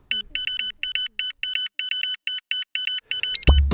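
Rapid electronic beeps repeat in short bursts, high and shrill, with a few faint low tones early on and a thump at the end.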